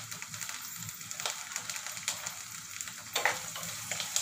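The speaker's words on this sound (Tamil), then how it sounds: "ஃப்ரெஷ்ஷாக கருவேப்பிலை வதக்கி" Fresh curry leaves sautéing in a pan with small onions, making a steady close sizzle with crackling pops and a few louder spurts. No one talks.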